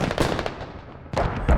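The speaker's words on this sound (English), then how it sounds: "Mortars getting a few kills with them slowing down the cap" Mortar fire in the tactical shooter Squad during a clan-night match on the Skorpo map: a few sharp, booming blasts, one near the start and a louder pair near the end, with a rumbling low tail between them.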